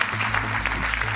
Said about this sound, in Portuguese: um aplauso para o João.